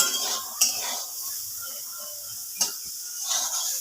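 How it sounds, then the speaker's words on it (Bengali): Boiled chickpeas frying lightly in a pan with oil and dried red chillies: a soft, even sizzle with two sharp utensil scrapes against the pan. "ছোলাটা একটু সেদ্ধ করে ভাজছি"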